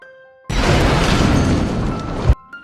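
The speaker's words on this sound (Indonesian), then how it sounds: "bom itu malah meledak di rel kereta api coy" A loud, sustained explosive roar of a bomb exploding on railway tracks bursts in suddenly, rumbling heavily for nearly two seconds before cutting off abruptly.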